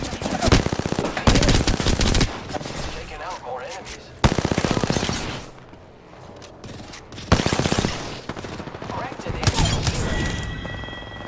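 Rapid automatic gunfire in Apex Legends rattles in several loud, dense bursts with short gaps between them, while players talk over the shooting.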